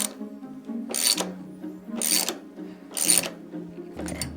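A ratchet works tight bolts loose on the rack of a 2023 BMW R1250GSA Trophy Edition motorcycle: four close, rasping strokes about a second apart, each a brief burst of clicking.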